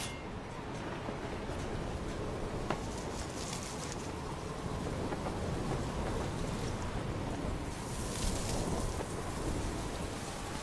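A thunderstorm in a film brings heavy, steady rain with low rumbles of thunder rolling underneath and a few faint bird calls, continuous and fairly loud throughout.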